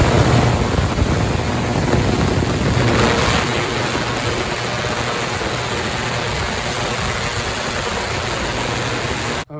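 An ultrasonic cleaner filled with water runs with a constant hissing, buzzing drone and a thin high whine on top. The noise stays steady and close for nearly ten seconds before stopping abruptly.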